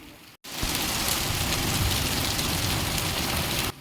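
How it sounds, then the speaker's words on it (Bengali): Heavy storm rain pours steadily and loudly, a dense continuous roar of downpour filling the scene after a brief silent break at the start, with no voices. "আমাদের এখানে প্রচণ্ড ঝড় বৃষ্টি হয়েছে, যাকে বলে আমফানের বোন"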